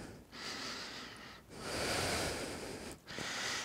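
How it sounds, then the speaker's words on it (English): Slow, deep breathing during a vinyasa yoga practice: three long, close, audible breaths drawn in and out through the nose, with short pauses between them and no talk. "Two more breaths."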